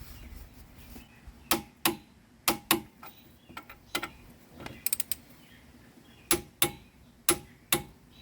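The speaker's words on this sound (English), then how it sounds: "Okay, so I'm just torquing my two bolts down here." A torque wrench tightens two brake caliper bolts on a 2009 Lincoln MKX, a series of sharp metallic clicks in short bursts with quiet gaps between, close up and without talk.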